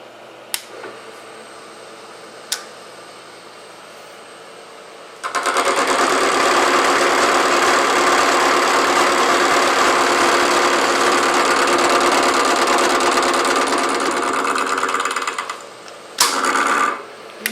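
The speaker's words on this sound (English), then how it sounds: "Makes a little bit of noise, but that's the nature of the interrupted cuts." A metal lathe takes interrupted cuts on a workpiece held in a production fixture, removing 25 thou per side. A steady, loud, rattling machining noise runs for about ten seconds, framed by quieter spindle hum and a few clicks.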